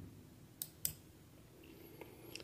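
A computer mouse clicks a few times, quiet, sharp, close-up taps spaced apart in a near-silent room.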